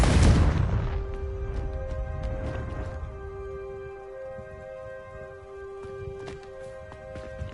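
Bombarda and Confringo spell blasts from Hogwarts Legacy: a loud booming explosion up front that rumbles and fades, followed by a sustained ringing tone and a few scattered lighter pops and crackles.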